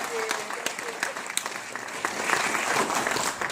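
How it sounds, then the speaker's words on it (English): A theater audience applauding projectionists, a mix of scattered sharp claps and a swelling wash of clapping that grows louder toward the end, with some voices mixed in. "give a big round of applause to our projectionists tonight"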